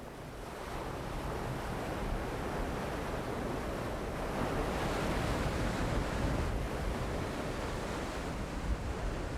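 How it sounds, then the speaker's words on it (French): Strong trade winds roar steadily over crashing ocean surf on Rangiroa atoll, carrying spray, a dense continuous rush with no voices. "un vent violent chargé d'embrun balaie l'atoll"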